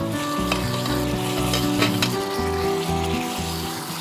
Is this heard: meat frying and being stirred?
yes